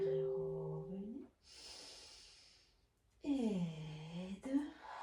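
Deep, audible breaths during an abdominal workout with an exercise ball, a few slow inhales and exhales close to the mic, with brief voiced breathing sounds between them.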